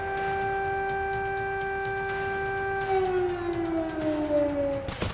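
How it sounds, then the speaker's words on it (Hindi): Air-raid alert siren in Belgorod wailing steadily at one pitch, then sliding downward as it winds down, loud and alone with no voices. "मंगलवार को कई बार एयर अलर्ट सायरन की गूंज ने लोगों को फिर डरा दिया"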